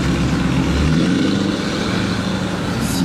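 A supercar engine growls steadily as the car drives past, its rumble staying loud and close for the whole three seconds, with no voices over it.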